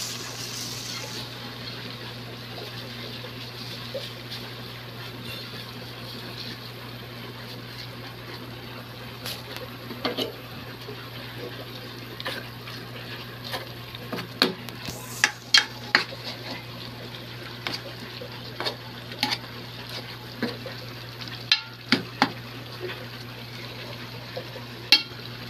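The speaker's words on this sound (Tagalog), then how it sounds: "Ilalagay natin ang pangalawang gata." Coconut milk, the second extraction, simmers in a pan of Filipino laing, giving a steady low bubbling hiss. Occasional soft clicks and stirring knocks rise above it, with no talking.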